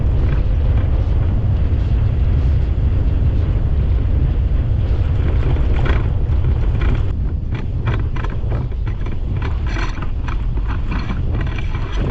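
An off-road overlanding vehicle grinds over rough ground with a loud, continuous rumble, then a cluster of sharp knocks and scrapes as its skid plate strikes an obstacle.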